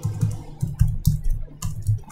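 Code is typed on a computer keyboard, a Python plotting script: quick, uneven bursts of close keystroke clicks and taps with short pauses between them, and no speech.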